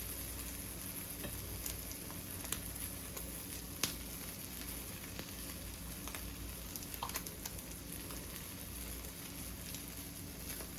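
Egg and cheese omelette sizzling steadily in a pan with cheese melting inside, a continuous close frying hiss with a few faint clicks and no talking.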